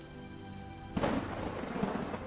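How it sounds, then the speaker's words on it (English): Rain patters steadily while a low roll of thunder breaks in far off, rumbling on beneath the downpour at a moderate, distant level. "as you hear that thunder at the distance and the rain"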